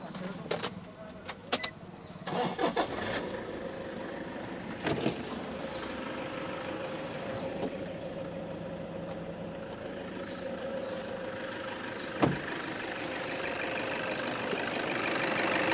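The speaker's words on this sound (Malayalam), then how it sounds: "ഞാൻ ഏതായാലും സ്റ്റാർട്ടും കൂടി ചെയ്ത് കാണിച്ചു തരാം" A Toyota Innova, a single-owner used vehicle, started up with a few clicks and a crank before settling into a smooth, steady idle that holds at a low, even level.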